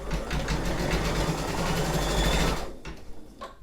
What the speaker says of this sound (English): I'm just going to press start, and hopefully it's going to start sewing.